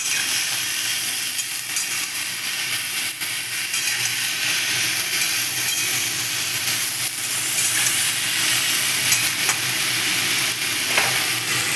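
Bitter gourd and potatoes with turmeric and salt fry in a pan, a loud, steady sizzle and hiss close by with occasional scraping stirs throughout, no talking.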